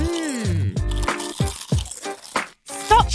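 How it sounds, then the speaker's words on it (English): A crunchy snack is chewed loudly and noisily in a series of sharp crunching bursts, mixed with expressive, cartoonish voices. "Stop chewing so loudly!"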